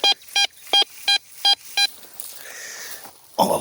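A metal detector sweeping ground at a castle site sounds six evenly spaced electronic beeps over a target, then a soft rustling hiss and a short louder scrape at the end.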